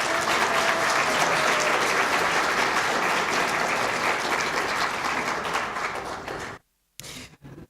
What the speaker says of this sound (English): I think we need one more round of applause for all of our judges